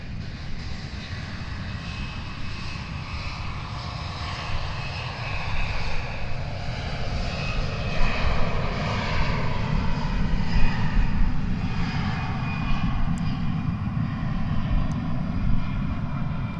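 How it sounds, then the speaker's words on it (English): A Delta Airbus A319 jet airliner takes off at a busy airport, its engines a broad steady roar heard from a distance, gradually swelling louder through the clip. "Got ourselves a Delta Airbus A319 going to Los Angeles."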